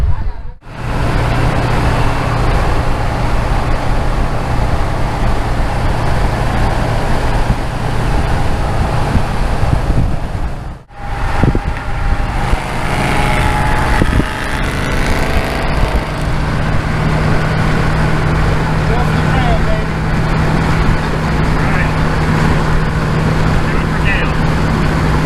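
A C3 Corvette with a swapped engine drives on the road, its engine and road noise a loud steady drone heard from close by, with a brief break near the start and again partway through, and people talking over it.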